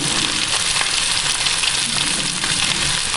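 Vegetables fry in a pan for Thai-style halibut, a loud continuous sizzle and crackle close up, with faint stirring scrapes mixed in and no voices.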